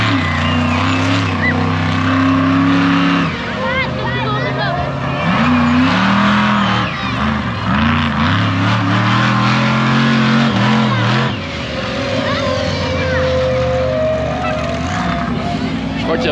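Engines roar as a tractor races a monster truck at the Gilgandra Show, loud continuous revving with rising and falling pitch sweeps, tire noise and crowd and announcer voices underneath.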